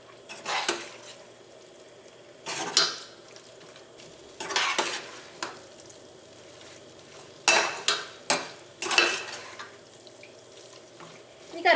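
A spoon stirs Chettinad pepper chicken masala in a pan, scraping and sloshing through the thick sizzling curry in irregular bursts over a low, steady frying hiss.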